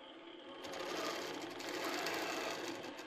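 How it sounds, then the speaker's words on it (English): A sewing machine doing free motion quilting with ruler work on a fabric panel, a fast, continuous mechanical whir of stitching, close and steady, rising slightly and holding for a few seconds. "That's the joy of free motion quilting with ruler work."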